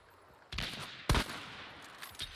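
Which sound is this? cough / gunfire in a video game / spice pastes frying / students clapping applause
gunfire in a video game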